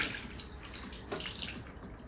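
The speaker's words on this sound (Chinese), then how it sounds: "加入温水，再继续给它清洗清洗" Pork intestines are rinsed and scrubbed by hand in warm water, with soft splashing and sloshing close by at low volume.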